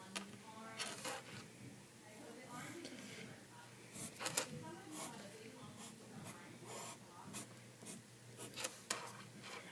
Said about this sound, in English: I can go through on this piece of paper and just start to draw some different shapes